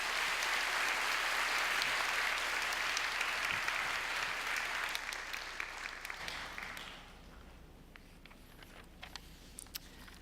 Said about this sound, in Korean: 우리 박수로 축복하며 환영하도록 하겠습니다.